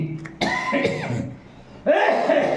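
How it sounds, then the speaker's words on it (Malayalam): A woman coughs in a home kitchen while preparing okra pickle, a few harsh close coughs in short bursts separated by a brief pause. "അമ്മ അളവ് കഴിച്ച കാരണം ഭയങ്കര ചുമ പിടിച്ചു"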